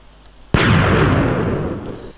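A TNT cannon in a block-building video game fires with one sudden, loud detonation after a brief quiet lead-in, followed by a long, rumbling explosion decay.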